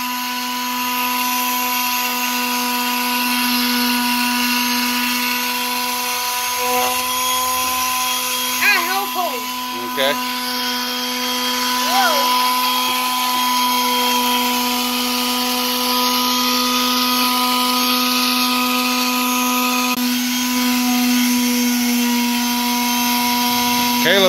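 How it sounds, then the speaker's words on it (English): A power sander runs steadily on a wooden furniture piece, a constant loud whine and hum lasting throughout without a break, while people talk occasionally over it. "Lay it flat down and start sanding."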